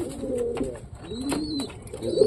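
Father pigeon cooing while feeding its chick, soft repeated throaty coos close by with a faint high chirp in between, no talking.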